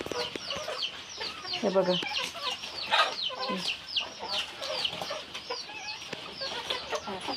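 Backyard chickens eagerly feed on fresh leaves, their soft clucks and chirpy calls overlapping in a lively, fairly close chatter, with a brief spoken remark early on.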